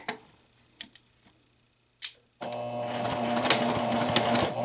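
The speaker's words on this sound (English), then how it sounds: "I'm just going to stitch through all the layers, 1/2 inch seam allowance, number 2 stitch, back tack at the beginning." A domestic sewing machine stitches through the layers of a bias tape neckline facing. A few sharp clicks and taps come first, then a loud, steady whirring run begins close by.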